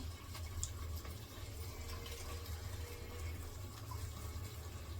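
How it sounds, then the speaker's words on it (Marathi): Hot water is poured into a cooking pot, a faint continuous splashing, gushing stream with a low rumbling undertone, steady throughout without breaks. "हे गरम पाणी"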